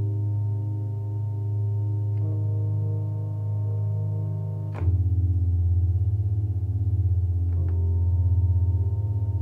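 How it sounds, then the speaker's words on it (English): A Rhodes electric piano in a sad lofi beat built in Logic Pro X plays slow, sustained chords with a warm, mellow tone, shifting chord about halfway through while faint clicks of percussion sit lightly under it. "And then I also added in a Rhodes piano playing the exact same chords except with one additional note"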